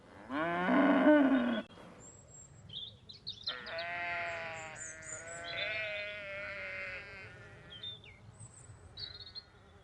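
Farm livestock calling: a loud low cow moo at the start, then several wavering sheep and goat bleats overlapping nearby, with no voices present.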